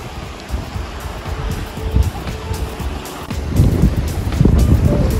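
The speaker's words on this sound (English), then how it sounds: "Oh, it's a bit windy now" Steady wind roars and buffets the microphone along a beach on the Isle of Wight near Puckpool, with surf rumbling in the background and gusts growing louder toward the end.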